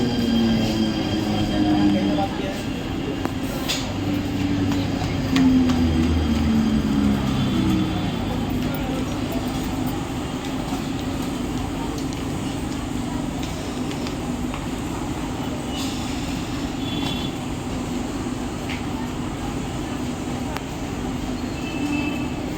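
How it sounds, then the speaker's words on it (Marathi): A Mumbai slow local train bound for CSMT rumbles along at night, its wheels and carriages giving a steady droning clatter with brief squealing tones early on and faint voices in the background. "रेलगाड़ी छत्रपति शिवाजी महाराज टर्मिनस जाने वाली धीमी लोकल है।"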